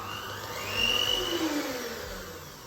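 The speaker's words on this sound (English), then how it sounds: "I'm using my mixed master today" An electric Mixmaster stand mixer beats eggs and oil with a steady motor whine, swelling slightly louder partway through and then holding steady. It runs alone at close range with no talking.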